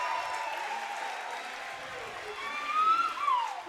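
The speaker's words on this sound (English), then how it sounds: "You can hear the crowd getting into it as well." Volleyball crowd at a women's college quarterfinal match cheering and applauding during a scoring run, a steady roar of voices and clapping that swells near the end, with a commentator talking over it.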